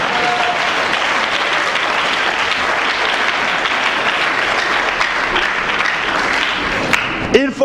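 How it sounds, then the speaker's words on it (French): A church congregation bursts into sustained, dense applause and clapping for the Lord, loud and close, continuing unbroken with a few shouts and voices mixed in. "Est-ce qu'on peut acclamer pour le Seigneur?"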